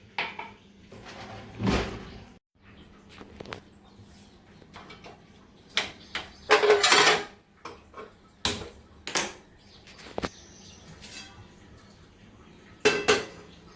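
Pots, pans and utensils clatter and clink in a home kitchen in irregular bursts as water is set to heat, with scraping and knocking sounds close by and quiet gaps between.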